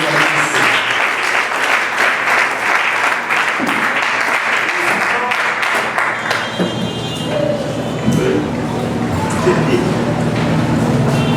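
Loud, sustained audience applause at a conference in Kinshasa fills the hall, a dense wash of clapping that carries on steadily throughout with voices mixed in.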